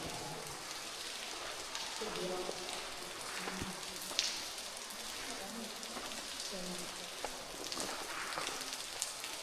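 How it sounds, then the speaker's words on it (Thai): Steady patter of dripping water inside an enclosed, echoing cave in Laos, with occasional sharper drops and faint voices in the background. "น้ำตกลงมาเลยเนาะ"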